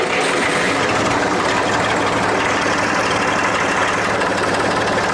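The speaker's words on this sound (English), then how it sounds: "We gotta start by starting the John Deere." A John Deere tractor diesel engine runs at a loud, rough idle outdoors on a chilly, breezy farm morning, a dense continuous rumble with a steady low knock throughout.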